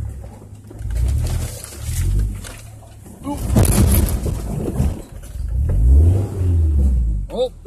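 A truck engine revs hard in bursts as it climbs a rocky ledge off-road, loud and close, rising and falling with strain, while someone talks over it.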